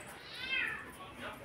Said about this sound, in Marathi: मांजराचं एक पिल्लू आलंय